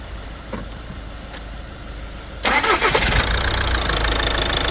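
A car engine cranks and catches about halfway through, then keeps running at a steady, loud idle. The engine is being checked for a charge pressure regulation fault. No one speaks.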